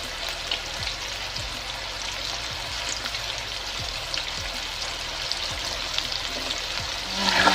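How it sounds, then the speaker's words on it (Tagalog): Calamari, battered Filipino calamares, frying in hot cooking oil: a steady, dense sizzle and crackle with faint stirring and small pops throughout, close up and continuous, swelling slightly near the end. "Kaya, mag-umpisa na tayong magprito."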